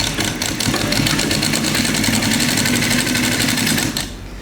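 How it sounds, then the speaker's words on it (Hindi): A sewing machine stitches plain kurti fabric in a steady, loud, fast-running mechanical whir that lasts about four seconds and then stops abruptly, with no voices. "तो चलिए सिलाई करते हैं।"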